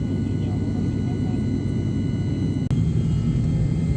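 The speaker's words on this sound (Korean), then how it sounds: "프로펠러가 달린 작은 경비 비행기였습니다." Small propeller-driven patrol plane in flight on the way to Yakushima, heard from inside the cabin as a loud, steady broadband drone and rumble that holds unbroken throughout, with a brief click near the end.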